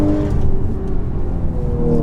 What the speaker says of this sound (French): le son du V6 est franchement très plaisant